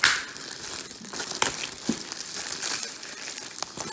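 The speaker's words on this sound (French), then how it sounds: "Donc je vais déballer pour vous en montrer un." A LimeLife catalogue being unwrapped from its plastic packaging, with close, loud crinkling and rustling and a few sharper tearing crackles across a few seconds.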